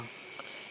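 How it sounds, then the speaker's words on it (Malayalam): Crickets chirp at night outdoors, a steady faint high-pitched trill that fills the background with no voices over it. "തവളൻ്റെ കരച്ചിൽ വെക്കുന്നുണ്ട് അതുപോലെ തന്നെ മണ്ണട്ട"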